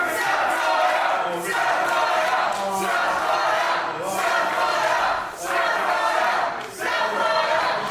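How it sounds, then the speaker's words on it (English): Crowd at a British independent wrestling show in London roars and cheers in repeated swelling waves, loud and continuous, with chanting bursts rising and falling while a commentator's voice sits faintly underneath. "The crowd all behind Safire Reed here."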